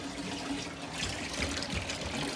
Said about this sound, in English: I'm gonna rinse them off again at one time